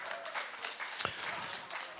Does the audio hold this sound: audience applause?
yes